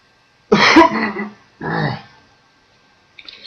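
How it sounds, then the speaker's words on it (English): A person clearing their throat twice, a harsh close rasp followed by a shorter second one, then quiet. "Sorry, I had to clear my throat."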